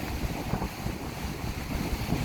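Strong monsoon waves surge up a beach on a rough sea, a short burst of dense, rumbling surf mixed with heavy wind buffeting the microphone.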